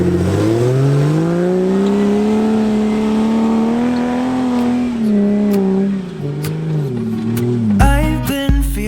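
A 4WD vehicle climbs a desert sand dune, its engine droning loud and close with the revs rising and falling as it labours upward, and a clattering burst near the end.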